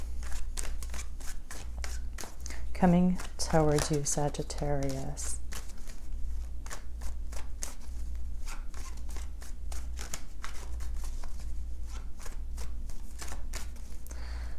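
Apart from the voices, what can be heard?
shuffling tarot cards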